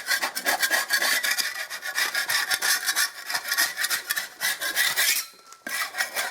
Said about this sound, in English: you can scrape all that back